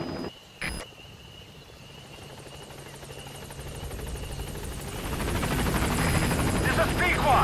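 Game helicopter from Metal Gear arriving at a landing zone, a steady rotor drone with rhythmic chopping that swells louder over the last few seconds as it draws near, with faint game sounds at the start.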